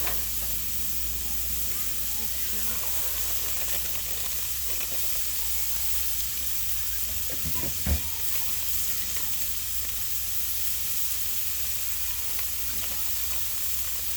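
Ground meat for sloppy joes sizzles steadily on a hot Blackstone griddle, a constant loud frying hiss throughout with a brief clank of a utensil near the middle.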